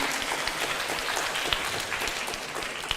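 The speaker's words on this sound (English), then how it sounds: "So give a round of applause for Pak Yeyen once again" An audience at an international student management conference applauds a speaker, a steady wash of clapping hands that holds evenly for a few seconds at moderate volume.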